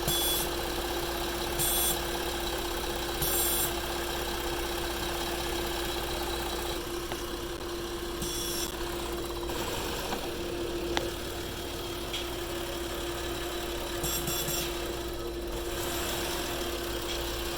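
A car engine idles steadily while propane is fed into its intake during sensor diagnosis, a constant close hum with a few short high electronic beeps recurring throughout.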